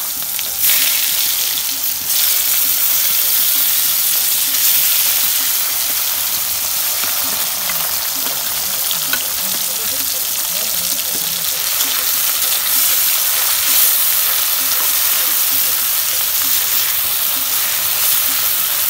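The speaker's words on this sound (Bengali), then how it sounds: "তেল গরম হয়ে গেছে, দিয়ে দিচ্ছে পেঁয়াজ" Onions go into hot oil, and a loud, continuous sizzle runs close and steady from start to end, with faint stirring underneath.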